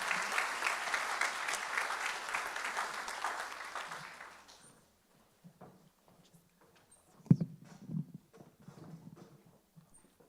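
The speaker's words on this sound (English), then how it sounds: "Please join me in a round of applause" Audience applause fills a commencement awards ceremony hall, loud and dense for about four seconds before cutting off, followed by near silence and a few faint shuffles and knocks.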